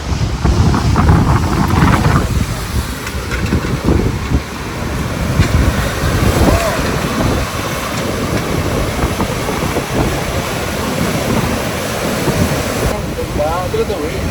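Surf breaking at Red Beach on a Greek coastline, a steady loud wash of waves with heavy wind buffeting the microphone throughout, voices talking faintly over it.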